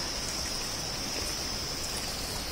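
A mountain stream runs between rocks along a forest trail near Sundarijal and Shivapuri, heard as a steady, close rushing wash of water with no voices.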